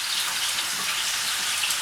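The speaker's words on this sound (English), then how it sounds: "now we're going to add the barbecue pork and the frozen vegetables" Barbecue pork and frozen vegetables fry in a hot pan with a loud, steady, close sizzle and no pauses.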